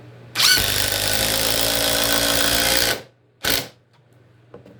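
A Ridgid three-speed brushless impact driver on speed 3 drives a Spax lag screw into wood: a loud, close, steady rattling hammer-buzz lasting about two and a half seconds, then a brief second burst.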